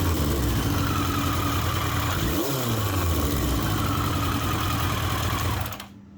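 A Yamaha XJ650 motorcycle engine runs steadily at idle, close and loud, with one brief rise and fall in pitch partway through before it cuts off abruptly near the end.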